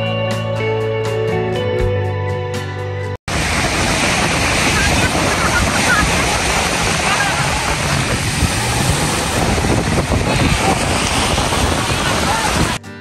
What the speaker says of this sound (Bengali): সাগরের ঢেউয়ের গর্জন